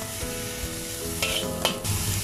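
Mushrooms tossed into a wok with garlic and ginger over raised heat, giving a steady close sizzle and fry with scraping stir strokes and a couple of louder clanks of the utensil against the pan.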